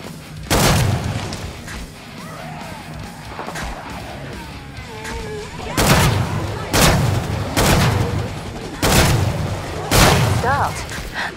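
Heavy gunfire from the video game Killing Floor 2, with loud booming shots at irregular intervals over a continuous background of game noise and a voice speaking.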